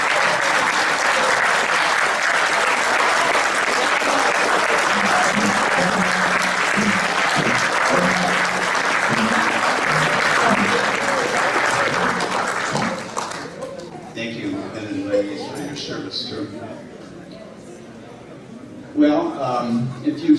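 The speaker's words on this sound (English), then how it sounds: "Give it a round of applause." Sustained, loud applause fills a school class reunion hall for about thirteen seconds, then fades and gives way to scattered voices and murmuring from the crowd.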